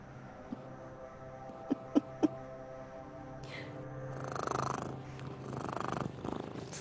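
A cat purrs close by, a low steady rumbling purr with a few soft clicks early on, growing louder and breathier in rhythmic waves toward the end.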